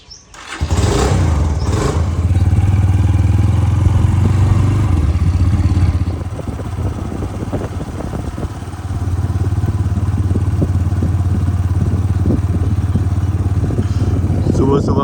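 A motorcycle ridden on a cold early morning: the engine catches, then drones loud and steady with a low hum throughout, under a rider's talk.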